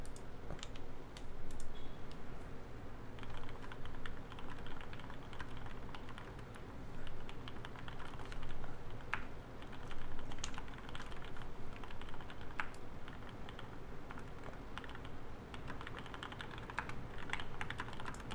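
Mechanical keyboard with Alps-style switches typed steadily and fast from a played-back recording, a dense stream of clicky keystrokes with audible stabilizer rattle over a constant background hum.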